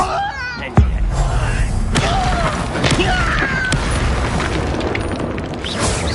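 Explosive spell blasts from Bombarda and Confringo in the Hogwarts Legacy video game, a sharp boom near the start followed by dense, continuous rumbling combat noise and scattered impacts throughout.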